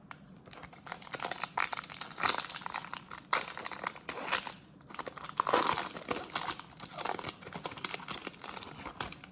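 Crinkling and tearing of 2018 Topps trading card pack wrappers from a jumbo box, continuous rustling and crackling bursts close up over several seconds, no talking.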